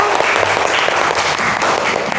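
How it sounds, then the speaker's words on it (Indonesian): A classroom of children claps enthusiastically, a dense burst of hand claps lasting a couple of seconds at close range, with faint voices mixed in. "Beri tepuk tangan. Kita telah menyanyikan lagu dengan baik. Tepuk tangan."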